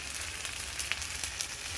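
Ginger-garlic-onion paste, chilli powder and turmeric fry with mushrooms in a pan, giving a steady, quiet sizzle with a few soft stirring clicks and no talk.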